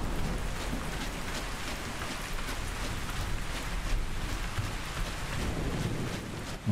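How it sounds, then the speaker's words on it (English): Steady rain falls in the video game Ark Survival Ascended, a continuous hissing patter of drops at even loudness throughout with no voices. "it's raining"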